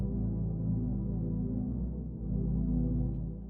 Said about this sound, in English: All I have on here is a Valhalla vintage verb.